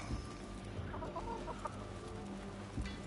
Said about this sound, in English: And chickens.